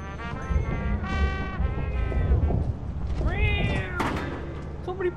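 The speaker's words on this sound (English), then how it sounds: "Put my cat on the mic." A cat meows into a gaming microphone, with several drawn-out, rising meows over a constant loud low rumble and background noise.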